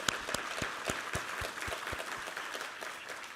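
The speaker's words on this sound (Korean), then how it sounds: "우리 하나님께 감사와 영광의 박수 올려드리겠습니다" A church congregation applauds during a Sunday service, steady sustained clapping from many hands with distinct individual claps standing out, continuous for the full few seconds with no talk over it.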